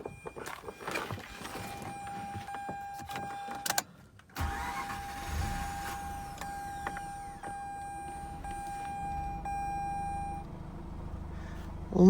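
Mazda RX8 rotary engine that has trouble starting, with a red battery icon on the dash, heard with dashboard chimes and a beep, then cranking and catching into a steady idle hum that runs on, fairly close and with no talk.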